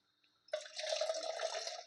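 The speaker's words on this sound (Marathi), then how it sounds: "मसाल्याचं भांडं धुवून घेते" Water suddenly pours into a spice pot being washed, a close, steady splashing gush that starts abruptly after a short quiet moment.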